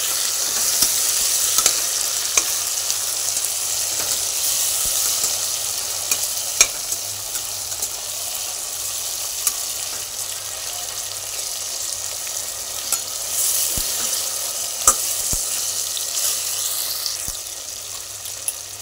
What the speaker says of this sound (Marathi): टोमॅटो पण छान असा भाजून घ्यायचा आहे।